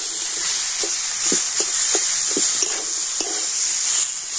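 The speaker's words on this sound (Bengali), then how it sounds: "তো এখন আমি সব কিছু কিন্তু কয়েকটা একটু ভালো করে নাড়াচাড়া করে নেব।" Potatoes and green peas with spices and salt are stirred in a pan over a clay stove, giving a steady hiss with a string of soft scraping strokes spaced about half a second apart, fairly close.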